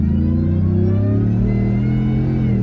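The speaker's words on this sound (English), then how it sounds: "here I should be able to get a kind of nice rev here. Hope you guys can hear that supercharger whine." A supercharged 2019 Ford F-150 Shelby Super Snake truck engine revs up hard, its pitch climbing steadily with a high supercharger whine riding over the loud, close rumble.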